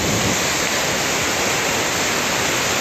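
Creek water rushing steadily and loudly close by, a dense unbroken roar heard from a boulder in midstream with no voices.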